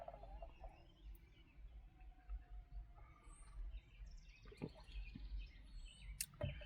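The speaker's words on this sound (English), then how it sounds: "I hear a bird chirping over here in my front tree." Faint bird calls sound sporadically from a front-yard tree in the morning against a quiet background, with a few sharper chirps near the end.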